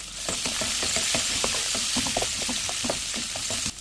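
Thinly sliced large onion frying in hot oil with lentils and mustard seeds, a loud continuous sizzle with rapid crackling pops and a few scraping stirs, close up.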